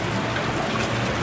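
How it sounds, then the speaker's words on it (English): Steady rain falls outdoors on a stormy day while water is being collected under a shade structure, a dense, continuous broadband hiss throughout with no voices. "It's really raining out here today."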